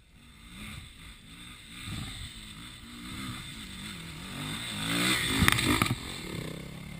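A motorcycle engine sputters to life and revs unevenly, growing louder with a few sharp throttle blips near the end.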